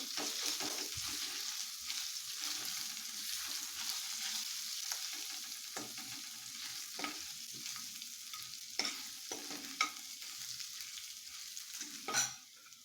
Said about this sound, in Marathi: आलं लसूण पेस्ट थोडीशी लाल होऊन द्यायची